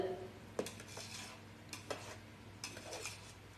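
A ladle stirring and turning chicken dum biryani rice in a pot, with soft scraping and a few light metallic knocks against the pot, faint and fairly close.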